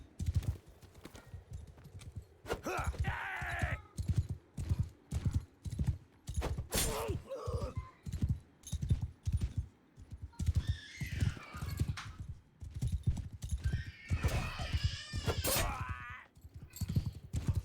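A horse gallops in a Mount & Blade 2: Bannerlord battle, with rapid hoofbeats pounding throughout and bursts of shouting, clashing and neigh-like cries layered on top amid busy combat noise.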